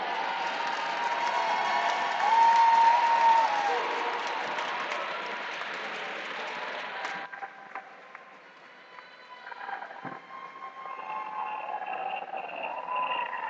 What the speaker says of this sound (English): Let's cheer in Delilah Lopez from Edison.